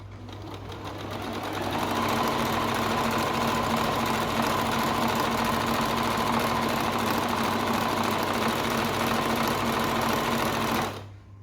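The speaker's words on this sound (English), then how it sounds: "I just prefer to go backwards and forwards to make sure that my stitch is locked in" A sewing machine backstitches back and forth on children's long pants, giving one loud unbroken whirr that ramps up, holds steady for about nine seconds and stops abruptly.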